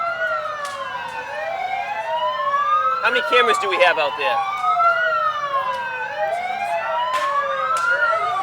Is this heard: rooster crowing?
no